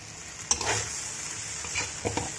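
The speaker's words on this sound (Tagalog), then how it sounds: "halo-haloin lang natin guys hanggang na ma-mix siya" A sauce mixture stirred in a hot pan, soft scraping strokes with a few sharp clinks of the utensil over a low steady sizzle, close and fairly quiet.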